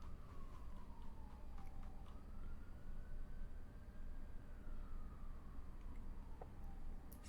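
A siren wails faintly in the distance, its pitch slowly rising and falling under a steady hum of background noise.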